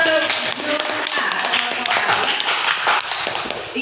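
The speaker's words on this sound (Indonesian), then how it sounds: "kasih tepuk tangan untuk grup A" A classroom bursts into applause for group A, with many hands clapping in a dense, continuous patter alongside voices.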